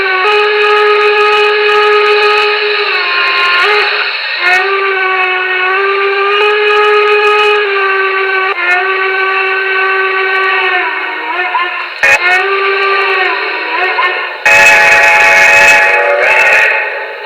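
Several long blasts from the chime steam whistle of a Paragon 2 Y6B model locomotive, loud and close, each held for a few seconds with brief breaks, the last one harsher and noisier.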